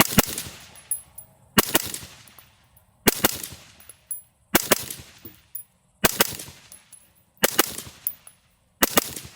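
Six sharp rifle reports from a 6mm rifle fitted with a lightweight HAVIC titanium suppressor, evenly spaced about every one and a half seconds, each a loud crack followed by a fading tail, with no talking between shots.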